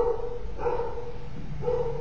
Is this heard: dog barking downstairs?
yes